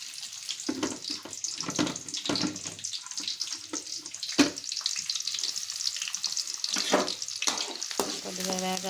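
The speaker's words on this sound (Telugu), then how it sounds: "ఉల్లిపాయలు వేగుతున్నాయండి" Onions and green chillies frying in hot oil, a close crackling sizzle under repeated scrapes and stirs of a spoon in the pan, with a short metallic rattle at the end.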